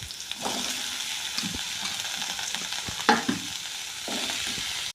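Bottle gourd sautés in a pan with a steady low sizzle. A spatula stirs and scrapes now and then, and there is a sharper clatter near the middle.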